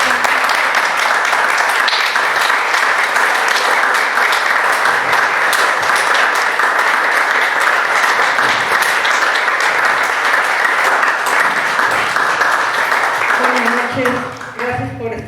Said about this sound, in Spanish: les voy a pedir que se levanten y que les den un aplauso